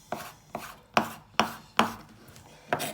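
A kitchen knife chops bacon, rind removed, into squares on a board: seven crisp, evenly spaced knocks with sharp attacks and short decays, close and alone.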